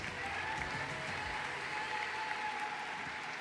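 Dense, even applause from a crowd at a university commencement ceremony, honoring graduates with Latin honors, holds at a steady level for a few seconds.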